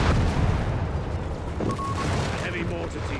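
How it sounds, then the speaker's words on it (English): A heavy mortar team is blown apart in the Company of Heroes 3 strategy game, loud rumbling explosions and battle noise with a commentator's voice talking over it. "Heavy mortar team being destroyed."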